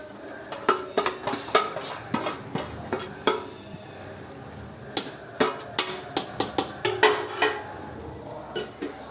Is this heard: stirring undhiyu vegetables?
yes